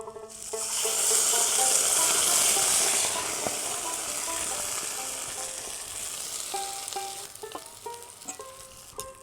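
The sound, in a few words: steamed drumstick leaves added to fried garlic, sizzling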